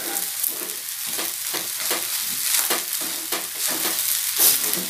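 Rice frying in a hot pan is stirred steadily, giving a loud continuous sizzle broken by regular scraping strokes of the spatula about twice a second.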